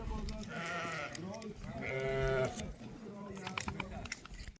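Lambs and ewes bleat in a sheep flock during shearing time, several loud drawn-out calls close by, with people talking in the background.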